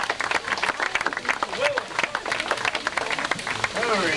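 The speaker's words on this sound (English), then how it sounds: "give them a nice round of applause for coming up here." Applause from an outdoor festival crowd at a street magic show, uneven patters of clapping with bits of chatter and a few sharp calls mixed in over a short stretch.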